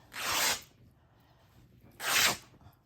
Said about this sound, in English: And you just rip it.